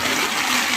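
A brief gush and splash as rainwater is bailed out of a flooded camping tent, a single sloshing pour heard close up.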